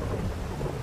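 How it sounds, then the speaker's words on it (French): Low rumbling thunder from a storm in the game GTA V, a steady dense roll with rain-like hiss filling the short stretch, fairly loud and continuous with no voices. "il commence à y avoir un peu d'orage"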